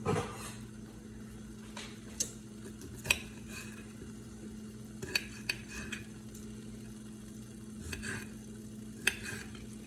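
A chickpea omelet mixture with spinach cooks in a pan, giving a soft low sizzle under repeated scrapes and clinks of a utensil against the pan, some sharp and spaced irregularly.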